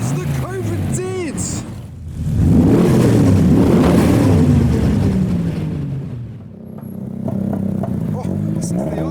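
A car engine idles and burbles close by at a car show, its rough, uneven rumble swelling louder mid-way before easing back. Crowd and background noise sit beneath it.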